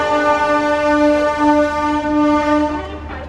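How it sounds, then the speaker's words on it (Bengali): The 12021 Howrah–Barbil Jan Shatabdi Express departs Howrah station, its loud, steady horn blaring for about three seconds over the low rumble of the train, fading near the end. "আমাদের 12021 হাওড়া বারবিল জনশতাব্দী এক্সপ্রেস ছেড়ে দিল হাওড়া স্টেশন থেকে"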